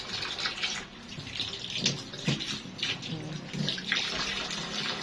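Running water splashes and gushes steadily while something is washed nearby, with uneven bursts and spatters throughout.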